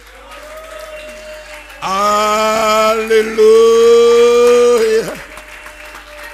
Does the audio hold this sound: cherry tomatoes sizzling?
no